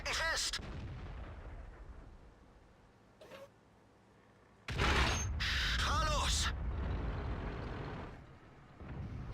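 Heavy tank guns boom in the World of Tanks video game, including a Jagdpanzer E-100, with a loud blast and rumbling mechanical clatter midway, plus a fainter earlier shot, under game effects.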